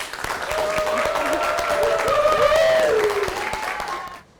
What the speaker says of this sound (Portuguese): Com vocês, Débora Garcia, salva de palmas.